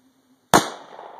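A single sharp gunshot from an SR1911 pistol firing Zombie Max ammunition bursts a plastic water jug outdoors, a loud close crack after near silence, followed by a spreading splashy decay.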